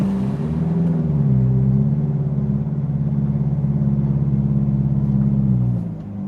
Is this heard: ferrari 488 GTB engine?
yes